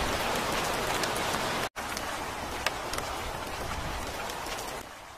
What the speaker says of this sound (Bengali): চারিদিকে কালো অন্ধকারে ছেয়ে পড়ে আর ঝমঝম করে বৃষ্টি শুরু হয়ে যায়।